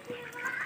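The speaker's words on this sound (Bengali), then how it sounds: "এই যে হাঁস দেখাচ্ছে কিভাবে কাদার মধ্যে জল খাচ্ছে।" Ducks drinking water in village mud, heard as a single brief nasal quack or honk.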